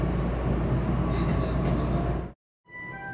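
A Japan Rail train on the Sakurai Line pulls into Takada station with a steady, loud rumble of wheels and motors that cuts off abruptly, followed by faint platform ambience.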